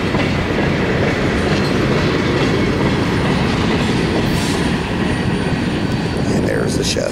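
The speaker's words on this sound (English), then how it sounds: "there's the shoving platform, which signifies the end of the coal ash train" A CSX coal ash freight train led by GE AC44 and ES44 locomotives rolls past near Lincolnton, producing a loud, continuous rumble of railcars with wheel clatter, ending at the shoving platform on the last car.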